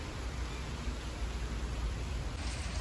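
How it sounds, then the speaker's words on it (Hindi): Heavy rain pours down in a dense, steady hiss that fills the whole stretch evenly, with no distinct drops or voices standing out. "तो अब हो रही है अच्छे से बारिश, धूप चली गई और हो रही है बढ़िया वाली बारिश।"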